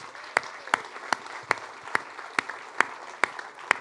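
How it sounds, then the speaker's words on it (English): Sparse, rhythmic clapping at a startup competition event, roughly ten sharp claps spaced evenly over a few seconds, fairly close and moderately loud against a quiet room murmur. "So let's give a round of applause for the other companies."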